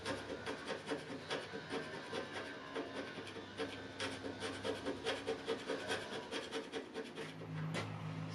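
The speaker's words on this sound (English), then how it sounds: "just a little bit of hand scraping" Steady hand scraping of a metal cross slide on an Okuma LS lathe, a rhythmic series of rasping strokes repeated evenly at close range, fairly quiet, with no speech.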